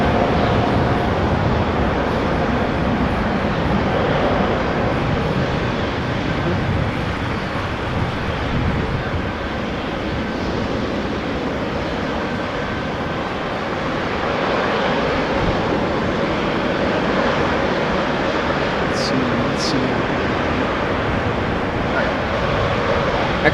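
A KLM Boeing 737-800 jet passes the runway threshold at Amsterdam Schiphol, its engine roar a steady, broad rumble lasting the whole stretch with wind noise mixed in.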